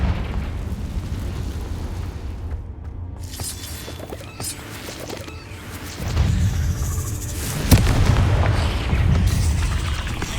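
A Confringo blasting curse in the Hogwarts Legacy video game goes off amid cave combat, with rumbling booms and crackling bursts, a sharp loud hit near the middle, and continuous heavy low-end noise throughout.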